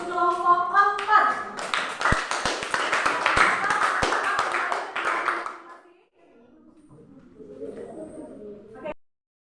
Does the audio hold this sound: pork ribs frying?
no